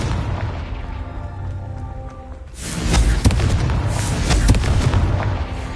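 In Hogwarts Legacy, a Confringo spell bursts into a dense, roaring explosion with crackling booms and rumbling debris, swelling loudly after a steadier noisy background and holding heavy for several seconds.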